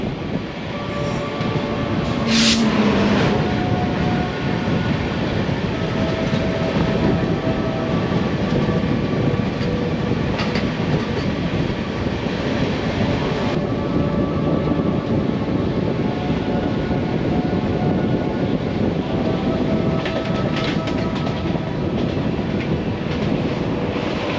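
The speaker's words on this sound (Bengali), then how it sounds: "এবার আমাদের ক্রস করবে one nine three two one Indore Patna express" The 19321 Indore–Patna Express rumbles past close by, a long continuous roar of wheels and wagons with occasional squeals and a brief horn.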